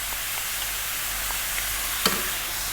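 Mushrooms with oregano and canned tomatoes sizzle softly in a pan, giving a low, even frying hiss with one brief sharp clink near the end; no talking.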